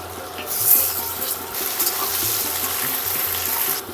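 Tap water runs steadily in a kitchen while a Bengali fish and aubergine curry is being cooked, a continuous close splashing rush for a few seconds.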